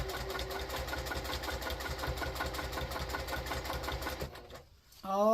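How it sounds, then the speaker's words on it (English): A sewing machine top stitches along the rim of a fabric basket, a steady close rhythmic chugging hum that runs continuously and then stops abruptly near the end. "I'm just going to do a top stitch on the top"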